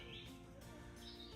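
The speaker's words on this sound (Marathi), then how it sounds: "पक्ष्यांची किलबिलाट चालू आहे." Birds chirp and tweet in a dense Canadian forest in the afternoon, a steady mix of high, overlapping calls carrying at a distance with no voices.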